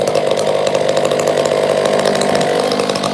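A chainsaw fitted with an aftermarket muffler runs at high revs, a loud, close, continuous engine whine that holds steady with no pauses or talk.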